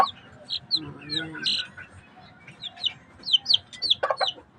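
Close-by chickens cluck and chirp in short, irregular bursts, with a few sharper squawks near the end.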